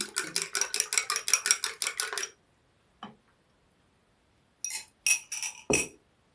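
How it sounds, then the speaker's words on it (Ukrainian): A fork beats eggs in a bowl for dough, a rapid run of clinking metal-on-bowl strokes, then a lone tap and a few more sharp clinks after a pause, close and clear with no talk. "Додаю сюди яйця, вилкою розколотила, щоб краще вони розмішалися"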